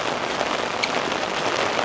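Rain falls steadily and loudly on surfaces around a campus in Dinghu, China, a dense, even patter of drops with no voices.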